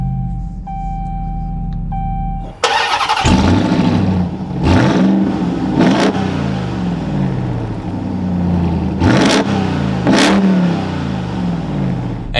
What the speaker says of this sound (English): let's fire this up again with my foot on the brake. We have that red engine start stop button and we can bring this to life.